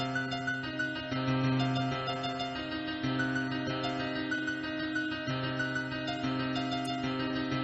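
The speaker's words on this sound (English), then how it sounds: "this is my first attempt at sonification of DNA." Sonified DNA sequence with one synthetic note per base, an unmusical string of steady tonal notes changing pitch at a regular pace, moderately quiet and with no talk.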